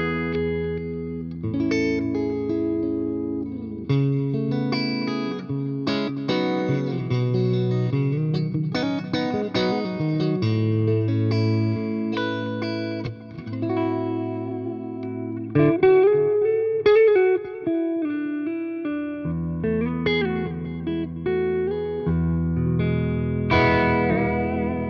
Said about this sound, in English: You can hear we've got a bit of reverb, a bit of delay from the Ocean machine there.